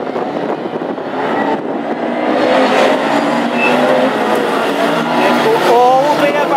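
Classic Hot Rods race cars pulling away on installation laps before the 2017 Scottish Open Final at Lochgelly, engines droning loudly and steadily with rising revs as the pack moves off, a commentator talking over the noise.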